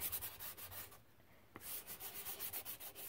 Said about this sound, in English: So we'll just use our little fingernail file on this one.